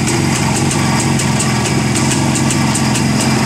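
A Cezet 350 Typ 472.5 motorcycle engine idles close and loud, with a steady, even two-stroke putter and regular periodic pulses throughout.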